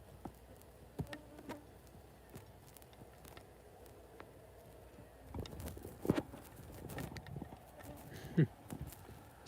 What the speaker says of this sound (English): moths and other insects coming and going here on the sheet